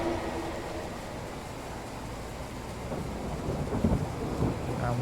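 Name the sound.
thunder in video game Train Sim World 3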